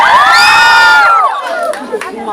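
A lively crowd at a Filipino entertainment event cheers and shouts loudly, with high whoops and squeals that swell at first, then break into scattered calls and yells.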